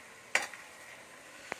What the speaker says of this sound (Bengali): ভালো করে মাংসটাকে আমি নাড়িয়ে নিচ্ছি।